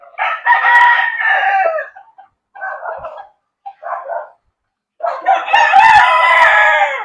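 Roosters crowing at a gamefowl poultry farm's conditioning area: loud, close crows in several bursts, two short ones in the middle and a long overlapping chorus at the end, with no talking.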